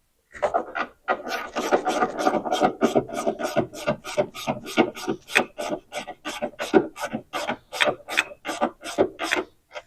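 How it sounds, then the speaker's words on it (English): A 10 mm wrench ratchets during clutch work on a Mini Cooper S. It makes rapid rasping clicks close by, first as a dense run of strokes and then as evenly spaced bursts that continue to the end. No one speaks. "that's going to be a 10 millimeter wrench"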